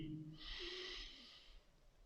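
A single deep breath during a yoga class: a slow airy inhale through the nose and a soft hissing exhale, close and quiet in an otherwise still room.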